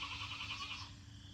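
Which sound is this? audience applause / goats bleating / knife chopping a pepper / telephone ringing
goats bleating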